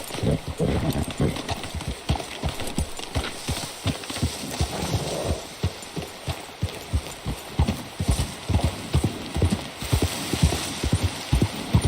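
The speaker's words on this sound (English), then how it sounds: "Get a hold of that horse, Morgan." Horse hooves clip-clop in a steady rhythmic gait throughout in Red Dead Redemption 2, close and clear, with some voices talking underneath.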